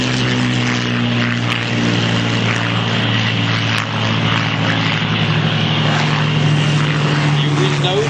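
A Hawker Hurricane, a single-engine Battle of Britain propeller fighter, drones steadily overhead at an airshow, its loud sustained engine hum filling the scene with crowd noise and an announcer's voice underneath.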